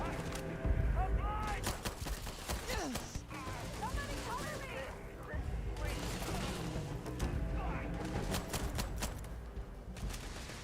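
Rapid gunfire from the video game Starfield, with bursts of sharp shots stacked over game music and effects, fairly loud and continuous across the stretch.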